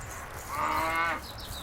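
A cow lets out a single drawn-out moo, close and clear, lasting under a second and standing alone against a quiet background.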